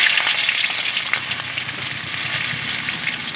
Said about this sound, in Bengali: পেঁয়াজটাকে এখন লাল লাল করে ভেজে নেব।